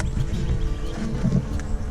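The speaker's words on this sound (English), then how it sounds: "Nice bees coming back." Honeybees swarm around an opened beehive, a dense, steady low buzzing close by with no pauses and no voices.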